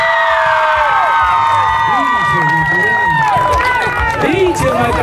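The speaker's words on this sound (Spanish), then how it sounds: "Aplauso para la Macarena" A crowd at a ranch rodeo (jaripeo) during Holy Week in Hidalgo cheers and claps, with whoops, whistles and shouting voices over a loud, continuous crowd roar.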